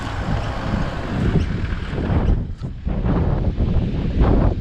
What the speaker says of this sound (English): It's still windy as all crap